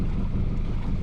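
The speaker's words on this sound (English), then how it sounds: "So I'm going to shut off the engine" A boat's engine runs steadily on open water while a Garmin Striker fishfinder records a depth contour map, a low, even rumble with some wind buffeting the microphone and no talking.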